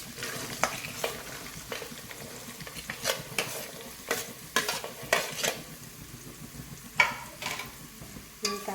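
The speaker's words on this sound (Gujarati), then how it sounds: "હવે આપણે એમાં કાંદા એડ કરીશું।" Onions and curry leaves fry in hot oil for Mumbai-style pav bhaji, a soft steady sizzle punctuated by sharp spatula scrapes and taps against the pan at an irregular pace, close up, with no speech.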